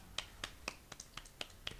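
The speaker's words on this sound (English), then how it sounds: "There's the golf clap." Podcast hosts give a slow golf clap: about eight soft, evenly spaced claps, each a light, dry pat, close and quiet with no talking.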